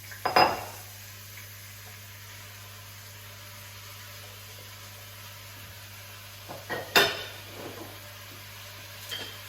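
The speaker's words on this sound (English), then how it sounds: "I'm going to stir. I want to coat the rice and the lentils with the fragrant oil and the spices." Rice and lentils are stirred in fragrant oil and spices in a pot: a couple of clattering scrapes of the utensil against the metal, separated by a long low background hum with little sizzle.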